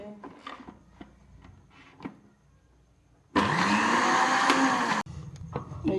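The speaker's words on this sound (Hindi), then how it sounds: "ब्लेंड करते हैं।" A kitchen blender whirs loudly for under two seconds, blending shawarma sauce made with oil and salt, set between quieter clatter and handling noises; the motor cuts off, then briefly restarts.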